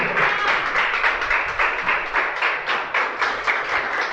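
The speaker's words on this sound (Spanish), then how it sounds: "Denle un aplauso fuerte al Señor." Church congregation clapping in a steady, rhythmic beat of repeated claps that pulse evenly throughout, moderately close and loud.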